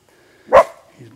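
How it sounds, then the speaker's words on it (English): A single sharp coyote bark rings out against a quiet background, followed by a faint low rumble. "He's barking there."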